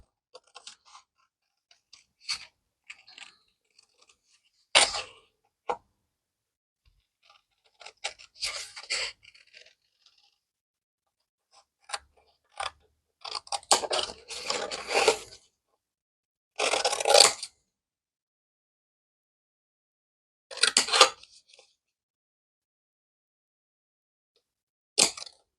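Scissors snipping out paper tulip shapes, sporadic short crisp cuts and rustles separated by quiet pauses, close up, with a few denser clusters of snips near the end.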